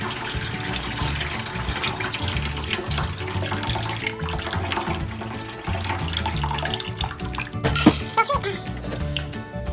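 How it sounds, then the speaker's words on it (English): Running water from a tap splashes over peas in a sink as they are rinsed and drained, a steady wash with occasional clinks of a pot or colander, briefly louder near the end. "Drain this off and wash it again."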